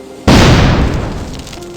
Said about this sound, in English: This allowed for the explosions to look more impactful with the debris scattering around the explosions.